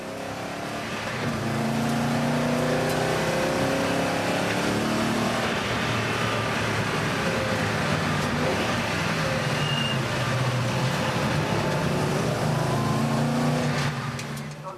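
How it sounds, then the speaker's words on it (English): Race cars at the 2007 24-hour endurance race on the Nürburgring Nordschleife roar continuously, with layered engine drone and shifting pitch that stays loud and unbroken throughout. "the fans bid farewell to the cars still on track"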